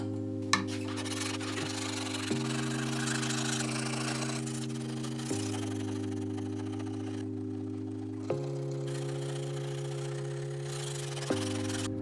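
A belt grinder cuts a false edge on a Bowie knife blade: a steady motor drone with a raspy grinding texture, its pitch stepping down and back up in passes about three seconds apart, marked by small clicks, without talk.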